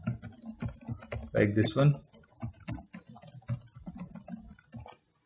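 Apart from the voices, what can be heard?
typing on a computer keyboard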